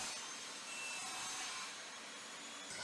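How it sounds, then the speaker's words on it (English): A thin piece of plywood being cut with a power tool for a router jig, a steady whining broadband cut running throughout at moderate, fairly distant level, with a slight change near the end. "Now I'm cutting a thin piece of plywood."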